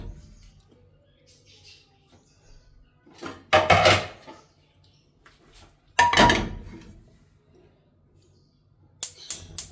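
Two loud metallic clanks a couple of seconds apart, then a third clatter at the end, like a metal pot being picked up and set down in a quiet kitchen.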